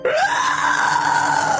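A voice imitating a horrific, horrible scream, a loud sustained wail that rises then holds steady, close and alone.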